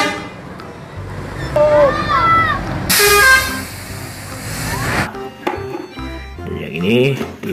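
A Pahala Kencana bus sounds its horn in a series of melodic toots with rising and falling tones, loud and close, amid road noise and low engine rumble.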